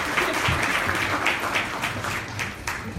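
Audience applause at an inspirational luncheon welcoming speaker Monica Rivera, steady clapping from a room full of people lasting the whole moment, with no speech over it.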